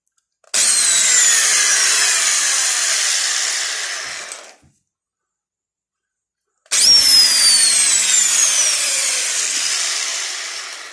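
A power drill whirs loudly in two long bursts, running for several seconds each with a brief silent pause between.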